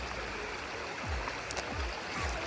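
Water flowing in a stream at a campsite, a steady broadband rush that stays even throughout, with a few low thumps underneath.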